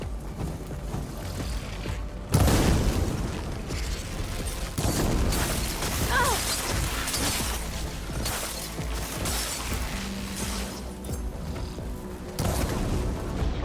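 Fiery explosion in the video game Horizon Forbidden West as an enemy machine is set ablaze, a loud crashing burst followed by continuous roaring, rumbling combat noise and mechanical clanks.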